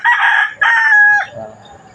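A rooster, one of nine conditioned fighting cocks being prepared, crows loudly and close up in a single drawn-out call that breaks and trails off, with no talking.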